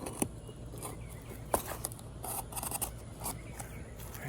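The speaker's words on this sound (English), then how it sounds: "this is how to cut the plastic covers that we have" Scissors snip through a plastic packaging cover in a few short, crisp cuts with faint scraping between them, close and fairly quiet.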